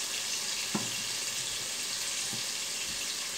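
Tomato goes into a hot frying pan for a turnip and shrimp curry, giving a steady close sizzle with a soft thump early on.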